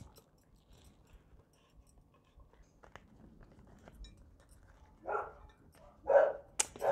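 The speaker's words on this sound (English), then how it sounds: "There's a lot of dogs outside, so I apologize for all the barking." Several dogs bark outside in a few loud, close bursts near the end, after a quiet stretch with faint clinks of dishes and cutlery.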